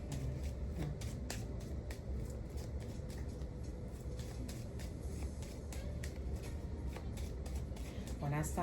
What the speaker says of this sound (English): When I stop shuffling,